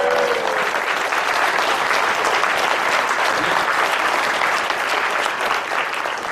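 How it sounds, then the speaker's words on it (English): A convention crowd at an opening ceremony bursts into loud, continuous applause with a few cheers, a thick wall of clapping holding steady throughout and easing only slightly at the close. "The people cheer for me shutting up."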